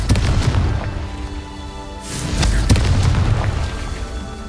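A Confringo fire spell explodes in Hogwarts Legacy gameplay, a deep booming blast with rumbling debris and a second sharp impact, loud and close over continuous game ambience.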